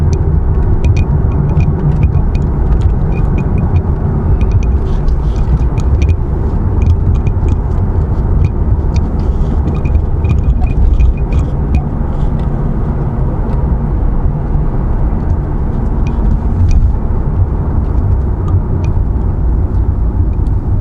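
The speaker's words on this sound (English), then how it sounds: "this thing out on the road, and you'll see how nice it performs." A 2003 Chevrolet Corvette 50th Anniversary Coupe cruises along a road, its engine and tire roar a steady, loud rumble heard from inside the cabin without a break.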